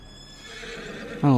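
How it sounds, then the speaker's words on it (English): A horse in the Farming Simulator 25 video game gives a loud, close whinny near the end, after a quieter stretch of ambient farm sound with faint hoof clip-clops. "Hello, horse."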